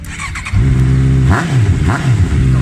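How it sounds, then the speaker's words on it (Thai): A 2017 Honda CBR650F engine idles loudly up close, its exhaust rumbling steadily, with a couple of brief throttle blips rising and falling. "ฟังเสียงเครื่องยนต์กับเสียงท่อกันนะ"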